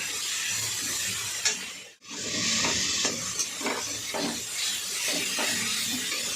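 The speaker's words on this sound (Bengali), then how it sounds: "ভালো করে এটা এবার কষিয়ে নেব।" Chicken with spice masala cooks in a pan, giving a close hissing sizzle broken by a brief drop near the middle, then soft rhythmic scraping stirs over continued frying, with no speech.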